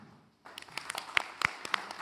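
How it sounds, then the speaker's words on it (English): Applause for a sponsor at a business debate: after a brief quiet, scattered clapping from a small audience starts up, with a few sharp, close claps standing out. "And big round of applause to Provdi."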